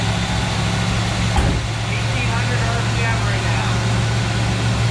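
A 1973 Chevy Chevelle SS 454 barn find idles with a steady, loud low rumble throughout, its vacuum line off, under constant broadband engine noise with a brief transient near the start.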